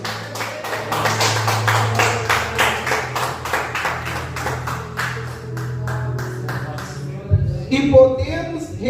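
A church congregation claps in a steady, even rhythm, loud and close, for about seven seconds before the clapping stops and a voice takes over.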